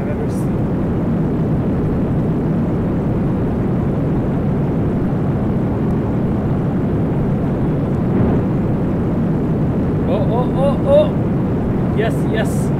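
The Hyperjet plane in Simple Planes roars with a continuous dense engine drone, steady and loud throughout, with faint chirping blips near the end.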